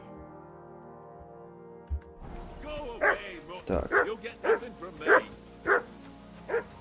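Dog barking in the video game Kingdom Come: Deliverance II: a series of about seven sharp, loud, close barks at a steady rhythm, following a stretch of game music, with brief speech heard early on.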